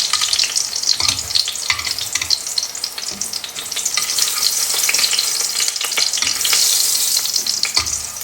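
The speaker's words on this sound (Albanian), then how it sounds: "do vazhdojmë të skuqim edhe pjesën tjetër të kungujve që kemi" Zucchini slices fry in a pan with a loud, continuous crackling sizzle, broken by occasional clatters of utensils against the pan.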